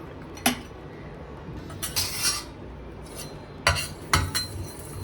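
A spoon stirs colour into homemade wild lemon (kidaranga) pickle, with a few sharp clinks and scrapes against the vessel separated by quiet pauses.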